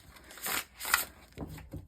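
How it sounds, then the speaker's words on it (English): Tarot cards are bridge shuffled in a few quick riffling bursts followed by softer taps as the deck settles, heard close and fairly quiet with no talking. "I have already bridge shuffled the cards."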